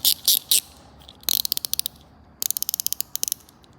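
A ratchet spinner turned on a fitted socket gives fast, bright metallic clicking in short bursts, a few separate clicks first and then two rapid runs that slow toward the end, close and loud with no talking.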